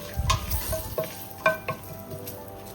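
Asafoetida and curry leaves fry in hot oil for sambhar, a soft crackling sizzle broken by several distinct scrapes and taps of a spoon stirring the pan, with no voices.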